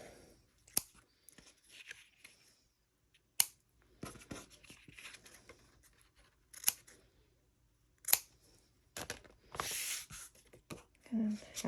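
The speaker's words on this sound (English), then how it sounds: "I'm going to get my ribbon scissors and trim that up." Ribbon scissors trim ribbon on a handmade birthday card in a quiet room, giving a few sharp, separate snips amid soft paper handling.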